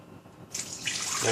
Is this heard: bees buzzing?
no